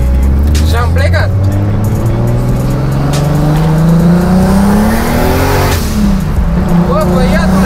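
A 600 hp BMW E30 accelerates hard, its engine climbing in pitch through a long pull with tire squeal and chirps, loud and close from inside the car while people talk over it.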